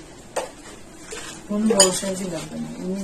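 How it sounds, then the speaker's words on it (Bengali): A non-stick pan for making sugar syrup for bundiya sweets clatters and scrapes on the stove with a few knocks, while someone talks over the kitchen sounds. "শিরা করার জন্য একটা নন স্টিকের প্যান নিয়েছি"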